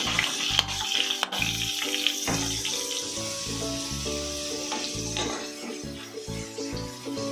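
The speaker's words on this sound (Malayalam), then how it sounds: "ഇതെല്ലാം കൂടെ ചെറുതായിട്ടൊന്ന് മൂത്ത് വരട്ടെ അതുവരെ നമുക്ക് ഇളക്കി കൊടുത്തിരിക്കാം" Curry leaves crackle and fry in hot oil for mango pickle, a busy close sizzle with clinks and scrapes as a spoon stirs the pan, no voices.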